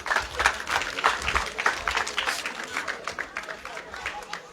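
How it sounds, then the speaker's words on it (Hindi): Brisk, moderately loud applause welcomes the deputy director of tourism, an uneven, pulsing crowd clap with voices mixed in underneath. "जोरदार तालियों के अभिनंदन करांगे।"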